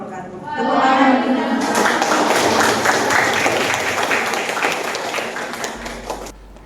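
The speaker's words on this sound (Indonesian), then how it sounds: "Tepuk tangan." Applause breaks out at the close of a teaching presentation, loud, dense clapping from a group that runs steadily for about five seconds after a short stretch of speech.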